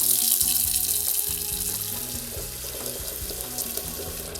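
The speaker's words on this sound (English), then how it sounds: "Now that our basin has a lot of water in it" Tap water pours steadily into a wash basin, a continuous close rushing splash that fills the whole stretch with no talk.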